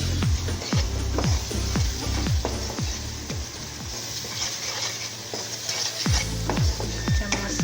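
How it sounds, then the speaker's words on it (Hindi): Okra (bhindi) frying in a pan for sabzi, stirred with a spoon: a continuous sizzle under repeated sharp metallic scrapes and clinks at a quick, uneven rhythm, close and fairly loud, no talking. "चम्मच साथ चलाते रहना है ताकि ये जले नहीं।"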